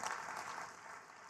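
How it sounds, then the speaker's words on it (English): Audience applause at a business talk, a brief, faint patter of clapping heard from a distance. "give that a round of applause."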